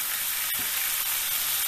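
Spinach and garlic sizzle in a hot pan while being tossed, a close, steady frying hiss broken by a few soft stirring knocks, with no voices.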